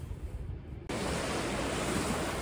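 Sea waves rolling onto the beach at Sopot, a steady broad roar of surf with wind noise on the microphone, swelling suddenly louder partway through and continuing close and unbroken, with no voices.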